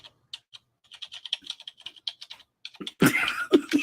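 Rapid irregular clicking of keys on a computer keyboard, close and fairly loud, in short bursts with gaps, followed by a loud cough or throat-clearing near the end.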